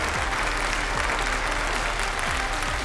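Sustained audience applause fills a large hall during a live auction at a business entrepreneurs' summit, dense steady clapping with low thumps and a faint crowd murmur underneath.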